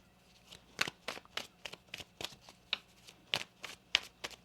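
Tarot cards are shuffled by hand in a string of quick, crisp riffles and slaps, about a dozen sharp bursts in an uneven rhythm, close and fairly quiet, with no talk.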